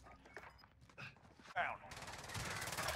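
Gunfire in the Warzone video game, a burst of rapid shots followed by a dense, sustained rattle of fire, heard under and after a voice talking.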